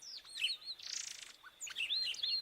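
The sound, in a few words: Icterus cayanensis (Inhapim) bird song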